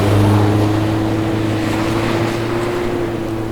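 Steady, loud engine drone and road rumble from inside a Mazda MX-5 with an automatic transmission out on a drive, a continuous low hum with wind noise and no speech.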